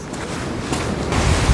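Sea surf washing up a beach at a seaside resort, a steady low wash of waves with wind buffeting the microphone, swelling louder toward the end.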